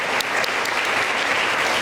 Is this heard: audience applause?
yes